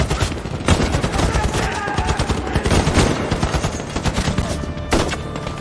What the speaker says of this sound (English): But the German gunfire only increased.